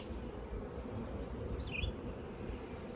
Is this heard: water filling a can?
no